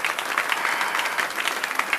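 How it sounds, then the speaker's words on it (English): Dense crowd applause in the VR video game Off The Chains Disc Golf, a continuous wash of clapping that is moderately loud and steady throughout. "Crowd goes wild."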